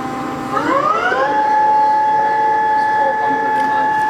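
A TRAK 18 x 40 two-axis CNC/manual flat bed lathe, model TRL 1840SX, with its two-speed headstock shifted into high range, spins up with a rising whine that settles into a loud, steady tonal hum.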